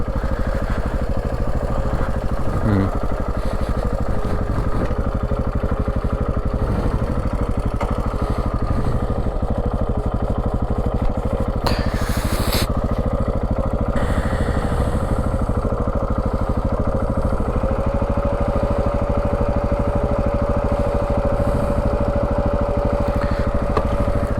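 KTM 690 motorcycle ridden solo on a steep trail near Mt Mee, its single-cylinder engine thumping steadily and close up for a long stretch, with brief clatter and wind bursts over the droning exhaust.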